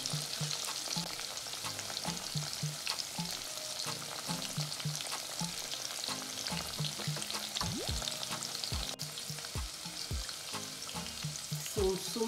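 Breadcrumb-coated liver fries slowly in oil over a very low flame, giving a soft, continuous crackle and sizzle with small pops and a few utensil clinks.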